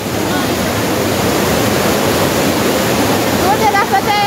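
The Namaste waterfall at Bhedetar roars in a dense, steady rush of falling water that fills the whole scene, with a faint voice surfacing briefly near the end.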